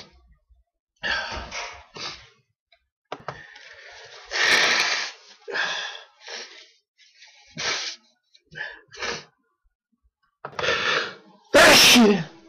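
Several sneezes and throat noises from one person come in quick succession, close and loud, with the sharpest, loudest sneeze near the end, broken up by short breathy pauses and brief vocal sounds.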